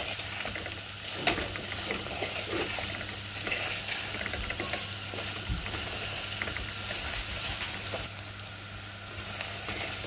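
Beetroot curry with chilli powder is stirred in a hot pan, a continuous soft sizzle with steady scraping and small crackles, quiet and close.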